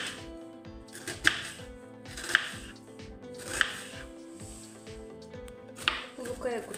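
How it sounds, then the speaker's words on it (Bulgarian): Knife chops onion finely on a board, a series of sharp close taps spaced about a second apart over a steady background hum. "Започваме с нарязването на лука. Нарязваме го на ситно и много тънко."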